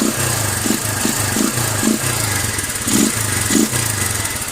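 A motorcycle engine fitted with a Nibbi 28mm carburetor, needle clip in position five, runs at a steady close idle and is blipped through several short, sharp throttle revs in an uneven rhythm, with no voices.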